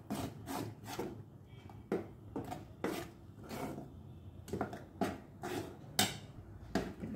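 Vennai puttu flour being mixed by hand with country sugar, a series of close, soft rubbing and scraping strokes in an uneven rhythm.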